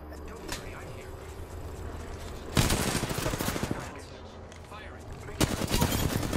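Bursts of rapid automatic gunfire in the video game Apex Legends, one strong volley near the middle and another near the end, with quieter game ambience and voice callouts between.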